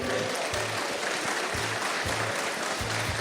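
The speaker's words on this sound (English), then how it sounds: "Can we have a round of applause for these fellas, please?" Audience applause at a Star Wars fan festival, Festival of the Force, steady dense clapping from a crowd continuing throughout without any voices standing out.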